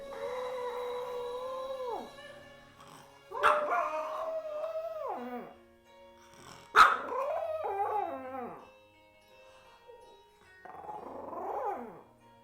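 A small Chihuahua howls and 'sings' in several drawn-out, wavering cries with pitch that rises and falls, broken by short yips and pauses, close and loud with no talk.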